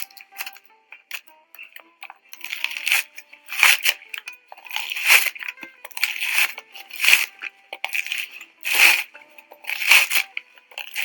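Coconut husk is torn with the teeth in a series of sharp, close crunching rips repeating roughly every second or two, loud and without talk.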